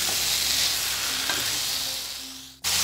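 Chicken pieces sizzle and fry in a hot pan while being stirred, a steady crackling hiss that fades slightly before a sudden louder burst near the end.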